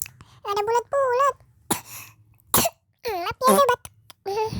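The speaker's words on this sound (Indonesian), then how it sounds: "Maaf ya saya batuk." A child coughs in a few short, harsh bursts between stretches of quick high-pitched talking, close and loud, with a low hum from a game running underneath.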